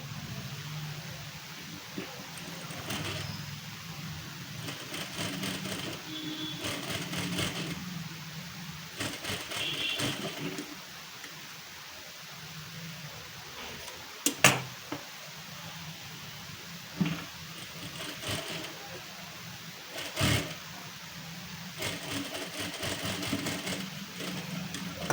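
Sewing machine stitching a hook strip onto a prince-cut blouse, running in short bursts of steady whirring separated by pauses, with a couple of sharp clicks midway and no talking.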